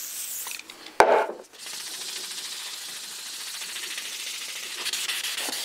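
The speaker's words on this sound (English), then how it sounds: "I sand this way here for maybe 5 minutes or so, and then I'll sand this way" An axe head is hand sanded with 1500 grit sandpaper, producing a steady, close rasping rub that runs continuously after a brief sharp knock at the start.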